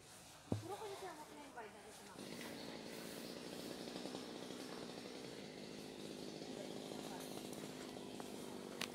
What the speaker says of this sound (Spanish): el de la motosierra va a podar el bambú.